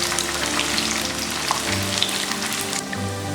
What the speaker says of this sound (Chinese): 放入金针菇炸一下，小火慢炸